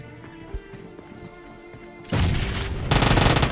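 A grenade explosion and gunfire in a ranked battle-royale mobile shooter match: steady game ambience and faint shots, then two loud broadband booms with sustained rumble close together.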